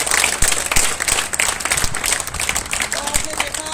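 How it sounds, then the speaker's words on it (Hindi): An audience at a special forces commando address bursts into loud, sustained applause, with dense clapping from a large crowd filling the room and a voice speaking over it. "जोरदार तालियां के लिए।"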